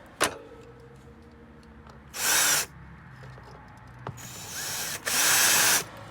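A power drill drives screws while a water pump is mounted, with two loud whirring bursts and a longer pair later, separated by quiet gaps with small clicks and knocks.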